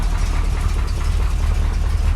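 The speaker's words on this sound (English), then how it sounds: "Just ticking over at 500 revs per minute there." A 1965 Corvette C2 Stingray's engine idles at 500 rpm, a steady low, rumbling tick-over that stays even and close for the whole stretch.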